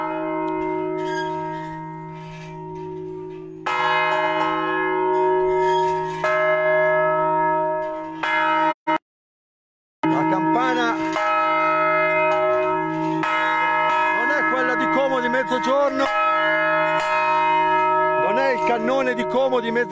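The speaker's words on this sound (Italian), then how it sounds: "ma è la campana di Crevenna con la quale vi auguriamo il buongiorno" The church bell of Crevenna, Erba, rings out loudly with rich sustained overtones, strikes overlapping, then briefly cuts off before ringing again.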